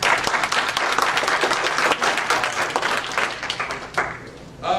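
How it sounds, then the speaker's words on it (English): Warm audience applause at an evening business seminar on mortgages and closing documents, a dense, steady wash of many hands clapping close by that carries on for several seconds before starting to thin out near the end. "Let's give them a welcome, warm applause."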